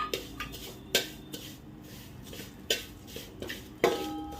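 Fine vermicelli is roasted in a little homemade ghee in a pan for kheer, with a spatula clinking and scraping against the metal in scattered sharp taps over a faint background, nearby and without talk.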